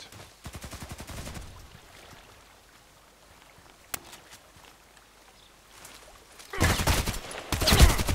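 Rifle fire from an EBR marksman rifle in the online shooter Contract Wars, a rapid burst of shots at the start, then quiet, then loud dense gunfire near the end, with no talk.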